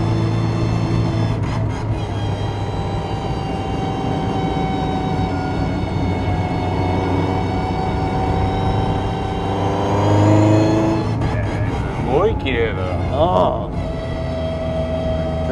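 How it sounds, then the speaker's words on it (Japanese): A vintage Toyota Sports 800 engine runs steadily with a rich carburetor intake roar and gearbox whine, swelling briefly as it revs near the end. "いい音だな、このキャブの吸気音とこのミッションの"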